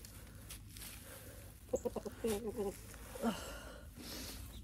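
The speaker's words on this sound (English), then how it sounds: "I hate this rooster." A rooster in a backyard clucks in a short burst of throaty, rhythmic notes, fairly close but not loud, with a quieter cluck a moment later over faint background noise.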